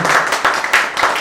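A crowd at a get-together event claps together, a loud, dense burst of applause that keeps going steadily for the whole moment.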